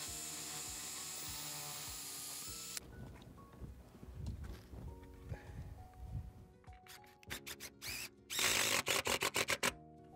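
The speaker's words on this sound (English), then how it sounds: "So I'm going to go ahead and drill." A power drill whirs in short bursts, then a few louder, sharper grinding pulses near the end as the bit bites into stucco, close by.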